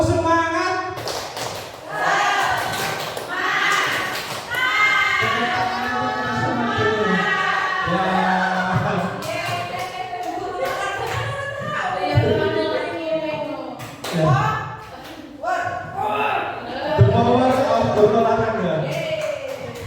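Teachers at a school gathering perform a rhythmic spirit clap, patterned bursts of taps and claps mixed with a leader's voice calling the count over nearly twenty seconds.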